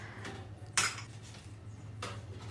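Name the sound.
spoons and utensils handled in a kitchen trolley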